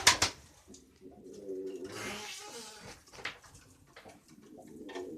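A female pigeon coos toward the nest, soft calls scattered over about five seconds amid faint indoor background noise, close by.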